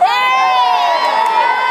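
A crowd of spectators cheers loudly at the 2012 Olympics, a steady roar of shouts and whoops lasting the whole moment without pause.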